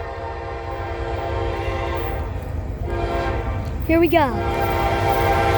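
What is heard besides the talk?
Norfolk Southern westbound intermodal freight train passing, sounding horn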